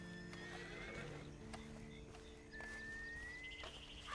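A horse in Red Dead Redemption 2 gives a few thin, high whinnies over a steady outdoor background of low hum and faint clatter, with a short sharp knock near the middle; no voices are heard.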